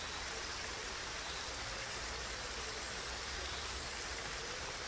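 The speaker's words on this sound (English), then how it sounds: "Listen to the sound of the water." Steady, soft rushing of flowing water, like a brook, continuing evenly throughout at a low level with no voices.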